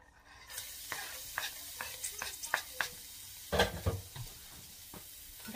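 Garlic sizzling in a hot pan with ground beef, a steady frying hiss broken by repeated stirring scrapes and clatters, with one louder burst of sizzle partway through.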